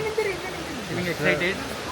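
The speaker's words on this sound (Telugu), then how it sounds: "సో ముంగల్లే ఉంది వాటర్ ఫాల్స్." A waterfall near Mandalpatti Peak in Coorg rushes as a constant broadband roar close by, while people talk over it.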